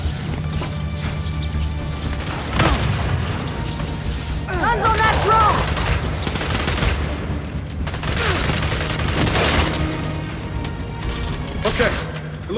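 Heavy Gears 5 combat, with repeated booming impacts and crashing blasts from a grenade explosion and gunfire, loud and close throughout, while characters' voices call out over the noise.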